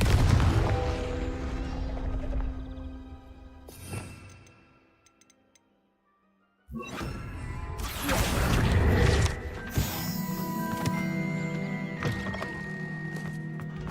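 The Confringo fire spell cast in the video game Hogwarts Legacy, heard as loud bursts and thuds with mechanical clatter, breaking off briefly into silence before another dense, explosive stretch of game effects.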